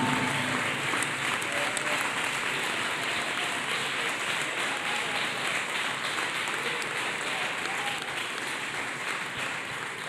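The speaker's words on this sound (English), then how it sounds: "Let us clap hands for Jesus." A church congregation claps hands for Jesus, dense sustained applause from many people, loud and continuous throughout.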